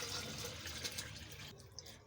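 Full-fat milk pours in a steady, faint stream into a container for a date milkshake with almonds, a soft continuous gush that thins out near the end.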